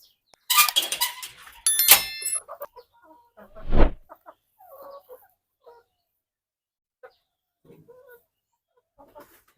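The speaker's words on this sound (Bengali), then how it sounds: "আমার মুরগি কিন্তু ডিম পাড়া শুরু করছে" Native laying hens cluck in short, scattered bursts, with one louder call partway through and quiet gaps between, close by in a calm setting.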